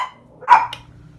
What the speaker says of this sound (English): excuse me while my dogs are barking